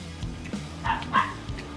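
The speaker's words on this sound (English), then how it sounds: "I wish that dog would shut up." Dog at an outdoor campfire barbecue lets out several short barks and yips at a moderate distance, sounding in quick uneven bursts.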